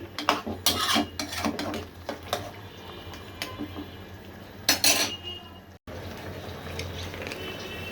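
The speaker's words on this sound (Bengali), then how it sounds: "দিচ্ছি টমেটো সস, আবার নেড়ে চেড়ে দিচ্ছি" A spoon scrapes and clinks around a cooking pot as tomato sauce is stirred in, with irregular close metallic taps and knocks over a low steady background hum.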